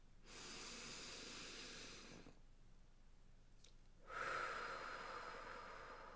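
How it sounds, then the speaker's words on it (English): A deep breath drawn in through the nose and let out through the mouth during a guided meditation, heard close and alone: a long airy inhale, a quiet pause, then a louder, breathy exhale. "In through the nose, out through the mouth. Take another deep breath."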